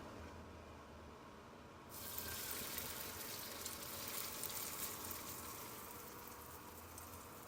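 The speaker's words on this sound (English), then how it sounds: "Now we're going to slide the noodles in." Noodles slide into hot oil in a wok for crispy chow mein, and a loud steady sizzle jumps in suddenly, then holds as a continuous hiss with no voices.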